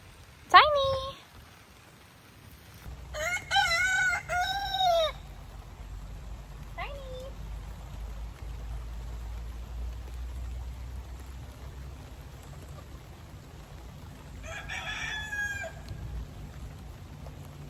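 Backyard chickens and a rooster in light drizzle, with a short crow near the start, a longer harmonic crowing burst around three to five seconds and another toward the end, over soft steady rain hiss and faint background sound.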